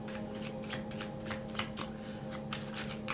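Tarot cards being shuffled by hand, a steady run of soft papery riffles and slaps up close, with a constant low hum underneath and no voices.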